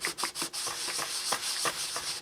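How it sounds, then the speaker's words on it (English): Gasket material is sanded off a part from a 1979 Johnson 6hp outboard motor with oiled sandpaper, heard as a close series of quick, rhythmic rubbing strokes with no talk. "gasket material off, and in time we'll see if it's sanding smoothly across all surfaces"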